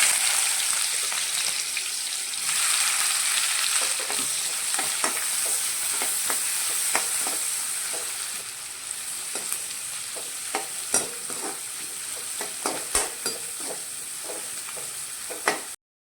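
Big onions frying in a pan for mutton curry, a constant hissing sizzle with a run of spatula scrapes and clicks that grow sparser and sharper toward the end.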